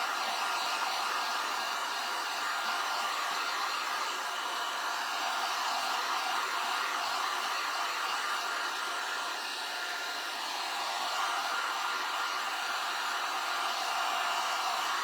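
A hair dryer blows steadily and close by to dry fresh paint on a primitive watering can being made whimsical, a continuous loud whooshing airflow throughout with only slight shifts in pitch and no talking.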